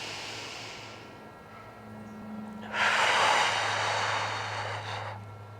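Deep, slow breathing during a posture therapy exercise for the lower legs, a soft breath followed by a long, loud, airy exhale close to the microphone over a low steady hum.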